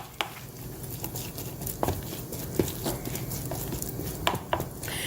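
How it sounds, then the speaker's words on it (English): Hush puppy batter mixed with vegetables being stirred in a bowl: steady close scraping and sloshing with occasional clicks of a utensil against the bowl, continuous and without talk. "Stir it well."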